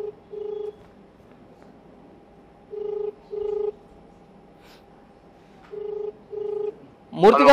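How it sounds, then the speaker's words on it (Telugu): A telephone call rings out through a handset, with repeated paired ring tones in steady bursts and a tone line underneath, before a voice cuts in at the end. "ఆయనకు ఒకసారి ఫోన్ చేద్దాం."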